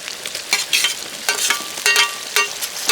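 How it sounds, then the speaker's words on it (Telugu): Tomatoes go into a pan of frying Telangana-style village chicken curry, making a loud crackling sizzle punctuated by several bursts of stirring scrapes, close and without talk. "టమాటాలు వేసుకోవాలి."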